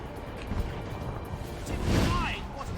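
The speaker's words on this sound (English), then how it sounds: "What an explosion that was!" A blast in the fantasy role-playing game Divinity 2 during a push toward a palace, a rumbling, swelling boom with a whooshing sweep, heard amid dense battle noise.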